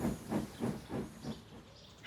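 A steam locomotive chuffs away at a steady, rhythmic pace, about seven evenly spaced puffs over two seconds with a soft hiss of steam between them, fairly close and alone.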